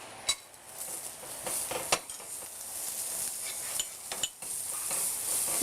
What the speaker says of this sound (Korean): 자, 그 다음에 당근을 볶아요.